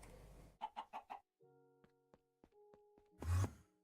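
Minecraft chicken in the Modern Skyblock 3 modpack giving a quick series of short clucks, followed by scattered game clicks and tones and a final louder burst.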